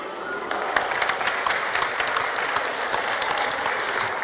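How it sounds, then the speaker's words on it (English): A summit audience gives the panelists a round of applause, steady dense clapping from a large crowd lasting the whole stretch, fairly close and even in loudness. "A round of applause, please."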